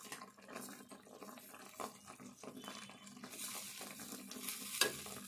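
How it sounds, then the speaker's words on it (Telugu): Curry with roasted coriander powder and fresh coriander being stirred gently in a pan, soft scraping and faint sizzling strokes, quiet and close, with no one speaking. "ఇప్పుడు కలుపుకోవాలి."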